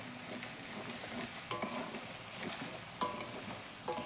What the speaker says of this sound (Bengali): হলুদ আর লঙ্কার গুঁড়োটা ভালোভাবে তেলে একটু কষিয়ে নিয়ে